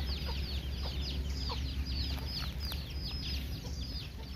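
Young roosters clucking and chattering repeatedly, close by, over a steady low background hum.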